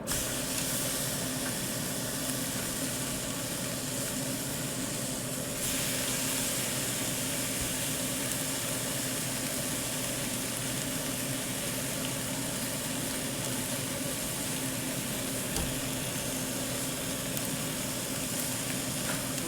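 Ribeye steaks reverse-seared on a Camp Chef grill give off a steady, close, broad hiss of searing fat that runs unbroken and fairly even with no talk, with a slight shift in texture partway through.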